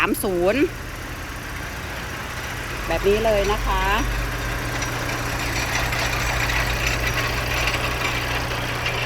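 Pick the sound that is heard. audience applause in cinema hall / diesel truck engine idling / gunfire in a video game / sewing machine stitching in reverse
diesel truck engine idling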